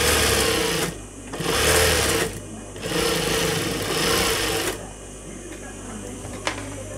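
A sewing machine runs in bursts, stitching the edge of a salwar, its steady whirring motor stopping and restarting several times with brief pauses, close and fairly loud, ending with a single click.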